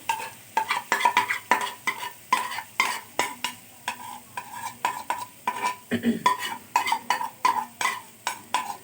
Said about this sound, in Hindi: और अब इसको अच्छे से हमने मिक्स कर देना है